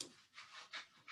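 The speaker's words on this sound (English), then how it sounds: "I hear my dogs barking." A dog pants quietly and rhythmically, a few quick airy breaths in and out, faint and close, with no barking heard.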